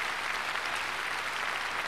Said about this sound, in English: George Bolette turning and applauding the Cincinnati Symphony Orchestra